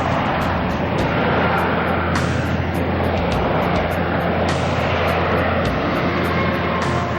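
A Harrier jump jet landing on an aircraft carrier, a loud, continuous jet-engine roar that fills the whole stretch. Sharp whooshing surges rise and fall over a heavy low rumble.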